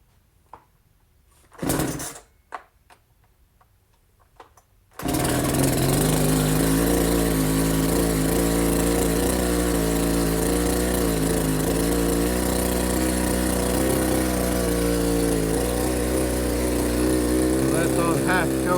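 A Poulan chainsaw starts on full choke after a quick pull-cord rattle and then runs loud and steady at a rough, high idle for over a dozen seconds, close up.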